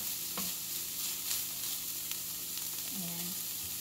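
Beef for sisig sautés in a pan, a soft steady sizzle with occasional light stirring scrapes, close and fairly quiet.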